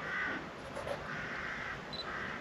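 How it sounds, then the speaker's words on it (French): A crow caws several times outdoors by the banks of the Moselle, with three harsh, drawn-out calls at moderate distance over quiet background noise. "Il y a un corbeau là qui gueule."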